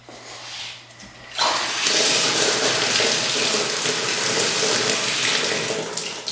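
Water rushes into a Sloan flushometer toilet valve as the supply is opened: a quiet start, then an abrupt jump to a loud, steady gushing hiss that holds to the end, close by, with no talking.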